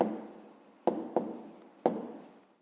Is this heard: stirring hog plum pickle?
no